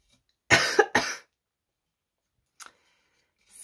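Two sharp, close coughs in quick succession from a person working on a cereal box journal cover, followed by quiet and faint small handling noises.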